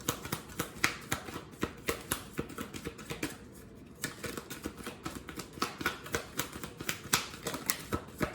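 A tarot deck shuffled steadily by hand until two cards come out, producing rapid, crisp papery slaps and riffles in an even rhythm with a brief softer pause midway, close and clear with no talking.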